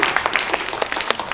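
An audience at an international suicide-prevention seminar in the Korean National Assembly claps in a brief burst. The hand claps are close and irregular, with no speech over them.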